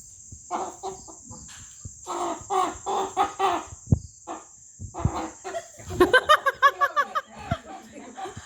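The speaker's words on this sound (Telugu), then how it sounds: "కోడి పెట్ట" A hen clucks in short, repeated bursts, close by, with a steady high whine in the background and some brief overlapping chatter.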